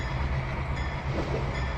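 Train running in the video game Trainz 2019, a steady low rumble with a constant engine drone and faint rolling noise, continuous and fairly loud throughout.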